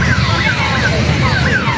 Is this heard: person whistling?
no